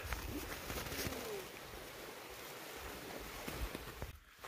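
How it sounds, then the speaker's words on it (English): Wild water running in a stream during a snowy winter walk among mountains, a steady broadband rush that holds constant throughout at moderate level, with a few faint bird calls and brief knocks over it. "Sound of water running."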